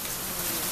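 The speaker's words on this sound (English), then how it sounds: "It's been raining." Steady rain hisses and patters outdoors during a hailstorm with bean-sized hail, a continuous close, even wash of sound with no voices.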